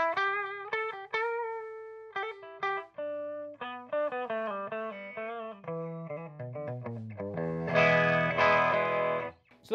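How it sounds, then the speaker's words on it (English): A 1989 Epiphone USA Pro electric guitar with a Floyd Rose system, played on its clean humbucking channel: plucked melodic notes and chords in a steady phrase, ending in a fuller strummed burst with effects-laden shimmer. "So that's our clean humbucking channel."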